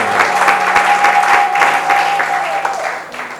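A church congregation claps and cheers in a sustained, loud burst of applause, with voices mixed in and a steady sung or held tone running underneath before the clapping fades.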